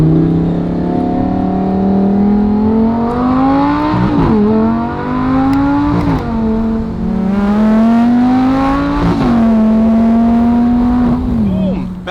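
A Lamborghini Gallardo engine revs loud and close, rising in three or four repeated sweeps that climb, drop sharply and climb again, with a rough, buzzy tone throughout.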